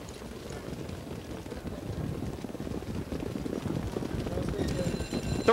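Trotting horses in a $40,000 open trot harness race at the Meadowlands, a dense rumble of hooves and track noise growing steadily louder under a race announcer's voice.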